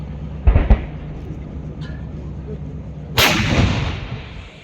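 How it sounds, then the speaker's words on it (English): An artillery gun fires at an army firepower demonstration: a sharp double crack early on, then a loud, distant boom that rolls and fades over a steady background rumble, with no talking. "accurate shooting is done by the artillery gun"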